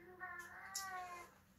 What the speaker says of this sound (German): Die Katzen, genau.